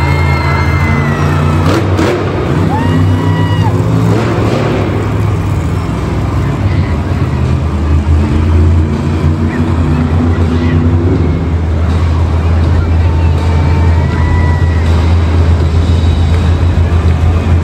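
A black and green monster truck revs its engine during Monster Jam freestyle in Fresno, California, a loud, steady, deep rumble that rises and swells, with crowd noise behind it.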